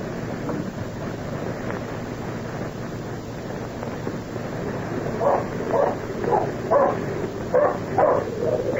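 A dog named Badger barks in a series of sharp, fairly close woofs, irregularly spaced, rising out of a steady low rumbling background after a quieter stretch.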